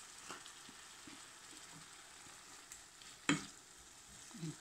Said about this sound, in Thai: ออกจะคั่วเนื้อกับพริกก่อนนะคะ